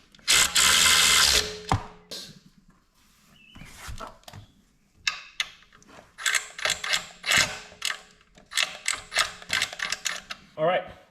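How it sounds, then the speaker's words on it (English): Torque wrench clicking while tightening case guard bolts on a Honda Gold Wing, set to 18 foot-pounds; a loud burst of mechanical rattle opens, then a run of sharp close clicks and ratcheting in quick succession. "doing a torque sequence of 18 foot-pounds. There we go. This is for that click. Got that click."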